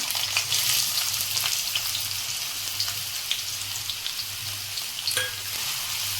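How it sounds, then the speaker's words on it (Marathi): Chopped onion sizzles and fries steadily in hot oil in a kadhai over a high flame, with a continuous close crackle, soft stirring scrapes and a few sharper clinks, for pav bhaji. "मी गॅस मोठा करते आणि हा कांदा घालून घेते"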